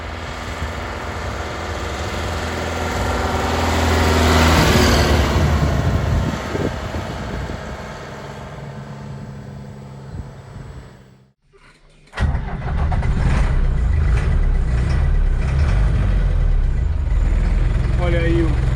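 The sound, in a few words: Mercedes OM324 diesel engine idling in 1965 Toyota Bandeirante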